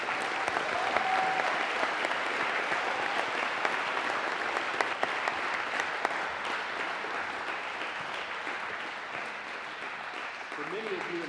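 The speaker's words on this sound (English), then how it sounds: "Can we give them one more round of applause" Audience at a Veterans Day program applauding for veterans, with steady, dense clapping from a large crowd that holds evenly for about ten seconds before thinning out at the end.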